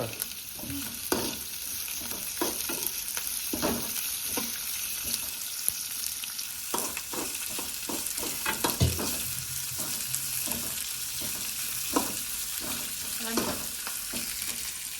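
Shavige vermicelli frying in a pan for uppittu, a continuous sizzle broken by repeated scraping stirs and taps of a spoon at irregular intervals.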